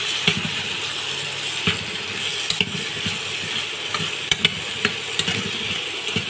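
Spatula scraping and stirring spices into a snail curry with ridge gourd and potatoes in a pan, soft irregular clicks and scrapes over a faint sizzle, close and fairly quiet.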